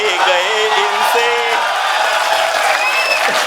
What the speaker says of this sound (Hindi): भाई, सीटी ना बजाएं जरा